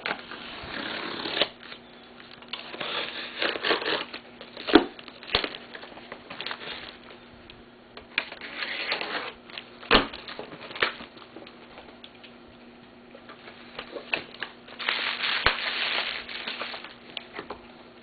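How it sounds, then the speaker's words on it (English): A cardboard box holding DiNotte XML3 and 400R quick-release bike lights is opened and unpacked, with scattered crinkling, rustling and scraping of packaging, a few sharp taps and no talking. "So this is opening the box. Let's see what's inside."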